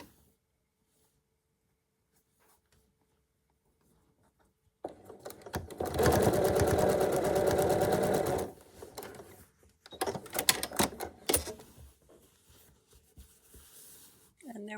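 Sewing machine stitching quilt block units together, silent at first, then a steady close mechanical whirring run of a few seconds, followed by a few short bursts and clicks.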